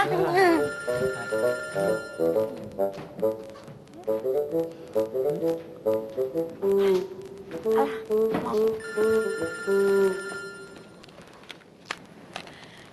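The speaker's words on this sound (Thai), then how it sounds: "เดี๋ยวไปรับโทรศัพท์ก่อนนะช้า" A telephone rings in a Thai comedy sitcom scene, playing a repeating melodic electronic ringtone in bursts that runs for several seconds, with people talking over it.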